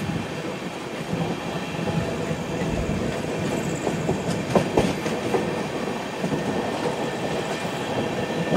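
Kondaveedu Express passenger train rolling along the rails, a steady loud rumble with clattering wheel noise and brief metallic clicks throughout, with no talking.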